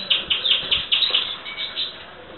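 Small, sharp chirps and tweets from Padovan frilled canaries in an aviary come in a quick irregular series, fairly faint and slightly distant, with no voices.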